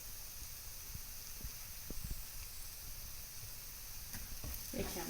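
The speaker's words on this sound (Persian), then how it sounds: "یکم تفت میدیم ادویه‌ها رو تا پیازمون هم کامل نرم شده." Onions and spices frying in a pan, giving a quiet, steady sizzle and hiss with a few soft stirring clicks and scrapes near the end.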